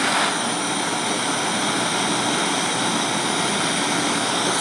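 A gas torch flame heats enamel on a mandrel, giving off a steady, loud, close roaring hiss that holds unbroken throughout.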